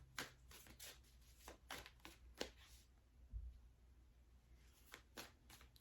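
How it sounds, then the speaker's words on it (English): Tarot cards shuffled and pulled from the deck, heard as quiet, close bursts of soft riffling and flicking in uneven clusters, with brief pauses between them and no talking. "let me pull more cards"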